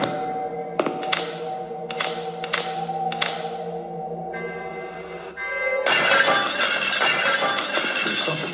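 Fragile glass being broken in a video game: a few sharp taps and clinks on the pane, then a sudden loud shattering crash that sustains as a bright, crackling spray of breaking glass, with no voices.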